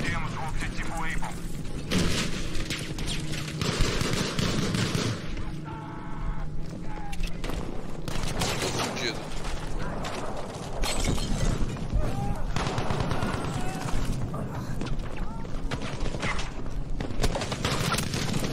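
Gunfire and thudding explosions fill a Battlefield V battle on Xbox One, dense and continuous throughout, with a voice talking over the din.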